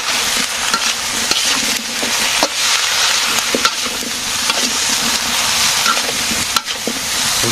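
Vegetables with salt sizzle and fry loudly in a pan, a steady close crackle broken by repeated scraping stirs throughout.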